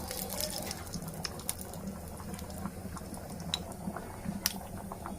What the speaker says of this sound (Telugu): ఇప్పుడు ఈ పోపు చిటపట ఆనింది